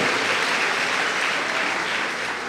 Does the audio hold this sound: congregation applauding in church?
yes